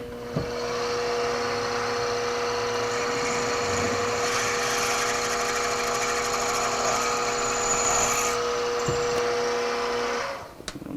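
A drill press whines steadily at high speed for about ten seconds while drilling a hole, loud and close, then spins down and stops.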